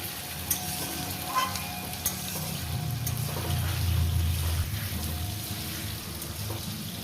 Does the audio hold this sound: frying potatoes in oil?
yes